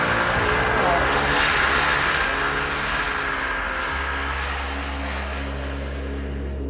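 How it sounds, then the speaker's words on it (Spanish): A snowmobile engine drones steadily with a loud, continuous low rumble and a broad roar, running without pause and fairly close throughout. "lo cargamos en la moto de nieve y emprendimos el viaje"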